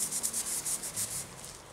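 A plain cloth rubbed without oil over a chrome Yamaha boom cymbal stand, making a steady, close rhythmic scrubbing of about eight strokes that fades slightly toward the end.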